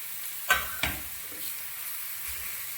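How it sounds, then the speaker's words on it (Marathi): Onion sautéing on a tawa for home-style Konkani crab fry, a quiet sizzle with two sharp stirring scrapes near the start and a faint knock later. "कांदा टाकला मी तव्यावरती आणि थोडासा परतून घ्यायचा"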